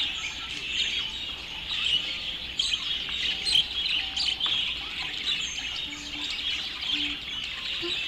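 A group of eight prize-winning canaries sings together, a dense, continuous tangle of bright chirps, trills and twittering calls, fairly loud and steady throughout, with no voices.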